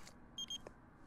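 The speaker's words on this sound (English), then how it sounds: "Oh, here's an alarm." Electronic alarm beep from an in-game appliance in The Sims 4, two short steady high-pitched tones in quick succession, faint over a quiet background with no talk.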